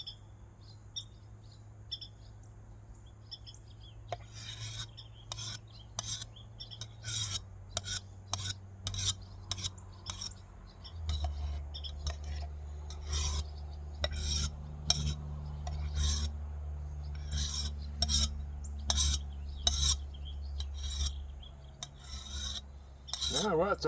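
Metal spoon scraping and stirring rice mixed with tuna in a bowl, a steady run of quick close raspy strokes under a low constant hum, with no talk.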